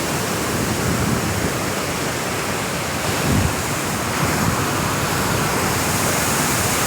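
Water rushes steadily over a village dam with constant broadband roar, close and loud, with faint wind across the microphone and no talking.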